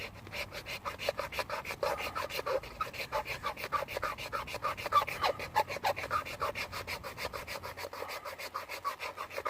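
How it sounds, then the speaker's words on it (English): A Victorinox Swiss Army Knife awl scrapes fine shavings off wood, making a fast, steady run of close rasping strokes that carries on without pause, with no voices. "you can see all those fine shavings coming off, fine scrapings coming off"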